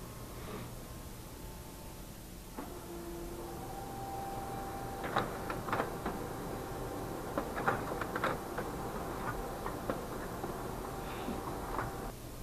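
An inkjet-style desktop printer feeds and prints on a sheet of regular paper: a steady mechanical hum with a sustained tone, broken by a series of sharp clicks and carriage taps in the middle, over constant background noise.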